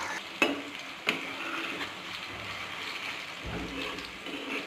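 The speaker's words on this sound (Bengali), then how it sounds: "তারপরে এখানে ভালো করে ভাজা হচ্ছে" Radish fritters fry in hot oil with a steady, soft sizzle, broken by a couple of sharp utensil taps near the pan and some stirring.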